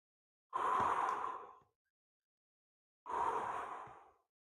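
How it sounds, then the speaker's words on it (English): Two long, deep breaths during yoga practice, each a drawn-out exhale lasting about a second, separated by a pause of silence, close and clear with no talking. "Some nice deep breaths."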